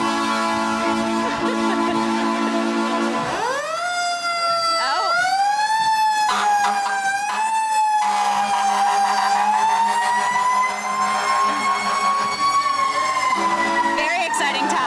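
A fire truck siren wails during a firemen's parade in the Village of Mamaroneck, rising and falling loud and close over a rumbling engine, sustained throughout with a few brief horn-like blasts.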